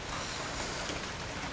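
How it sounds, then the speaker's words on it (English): Steady rain falls outside, a soft continuous hiss of drops with no voices or other sounds over it. "Just rain."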